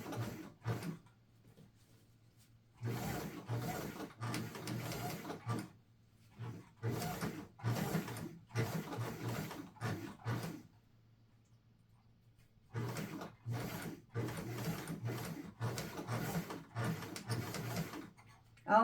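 A sewing machine stitches a small quilted mug rug in several close runs of rapid whirring and needle chatter. Quiet pauses separate the runs, likely while the presser foot is lifted.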